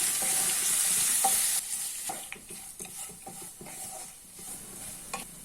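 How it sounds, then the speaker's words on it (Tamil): Coconut, cumin and lemon juice frying in hot oil, with a loud steady sizzle that eases after the first second or so, broken by scraping clicks of a spoon stirring the pan. "எல்லாத்தையும் சேர்த்து ஒரு 1 மினிட் நல்லா ஃப்ரை பண்ணி எடுத்துக்கலாம்."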